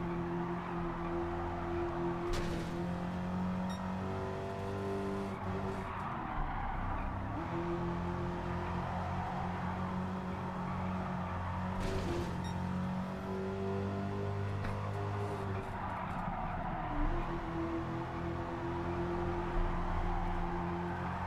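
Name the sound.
car driving with handbrake in video game Gran Turismo 7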